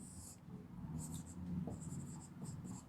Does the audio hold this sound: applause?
no